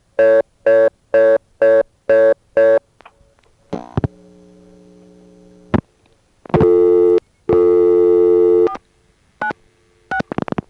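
A telephone reorder tone on an old step-by-step exchange in New York's 914 area: six evenly spaced loud tone bursts, then hum and further tone fragments and clicks on the line.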